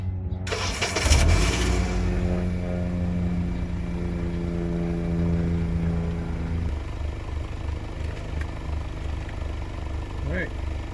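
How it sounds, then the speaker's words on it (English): A 2007 Honda Civic LX sedan engine cranks and catches, then settles into a steady idle through its newly replaced muffler, close-up, with a voice talking over it. "we're gonna start the vehicle right now"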